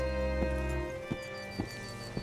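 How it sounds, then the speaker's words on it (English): Horse hooves clip-clop in Red Dead Redemption 2 as the rider pulls up to a hitching post, a few separate hoof thuds spaced out over a low ambient hum. "Hitch your horse up here."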